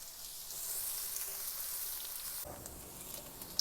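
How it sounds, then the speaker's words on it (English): Onions frying in melted butter in a saucepan give a steady, close sizzle and hiss that dips slightly partway through as they are stirred, with no voices. "I had melted some butter, and right on top of that, we're going to cook our onions"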